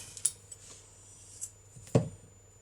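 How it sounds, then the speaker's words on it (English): Scissors snip through crochet yarn for a Halloween Frankenstein treat bag, giving a few brief metallic clicks and one sharper cut near the end, close and quiet. "Now we can fasten off and cut the yarn."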